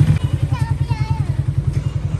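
A motorcycle engine chugs nearby in a steady, rapid low pulse throughout, loud and close, with faint voices in the background.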